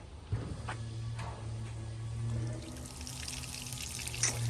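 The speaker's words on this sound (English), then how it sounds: "All right, turn the water on." Water turned on during boat engine startup, running and pouring steadily at moderate level with a constant low hum underneath and a few faint knocks, no talking.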